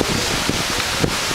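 Strong wind sweeps across a beach at a seaside resort near Bacolod City, roaring continuously in loud broadband gusts over the microphone, with faint thuds of waves or buffeting beneath.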